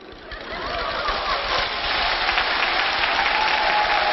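A live crosstalk comedy audience breaks into applause that swells within the first half second and holds as dense, even clapping for several seconds.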